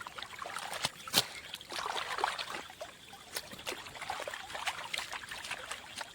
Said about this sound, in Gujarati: તો પાણી અહીંથી આપણે ખોલી દીધું